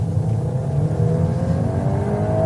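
A Volkswagen Golf R engine revs hard, with a low throaty rumble and a climbing whine that sweeps upward as the car accelerates close by.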